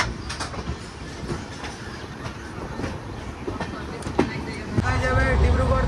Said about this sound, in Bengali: আর এই মুহূর্তে আমাদের গাড়ি ছেড়ে বেরোচ্ছে কিষানগঞ্জ রেলওয়ে স্টেশনের 1 নম্বর প্ল্যাটফর্ম থেকে।